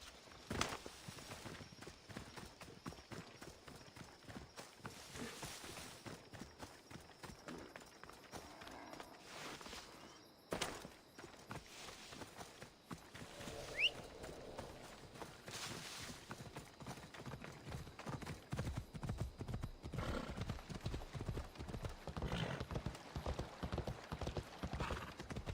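A horse gallops in the video game Assassin's Creed Odyssey, fast rhythmic hoofbeats running steadily and growing louder toward the end, with a brief whinny partway through.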